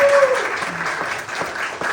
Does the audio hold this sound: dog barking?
no